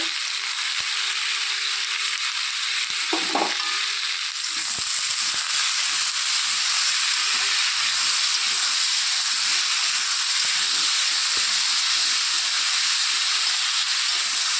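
Potatoes and tomatoes with salt and turmeric fry in a pan, giving a continuous loud hiss of steam and sizzling close up, with a brief clatter early on and no talking.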